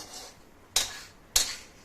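Two sharp metallic clatters ring out about half a second apart as a metal pan and utensils knock together while roasted bottle gourd for barfi is scooped out, each clang decaying quickly into quiet.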